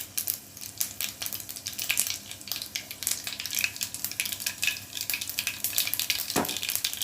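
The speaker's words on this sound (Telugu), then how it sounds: "ఆవాలు చిట్టపట్టమంటున్నాయండి." Mustard seeds and urad dal spluttering in hot oil for a village-style pappu charu tempering, a continuous close crackle of sharp pops and sizzle with no talk.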